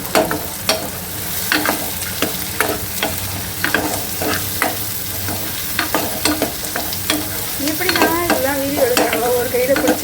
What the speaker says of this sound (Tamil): நானும் கிண்டுறேன்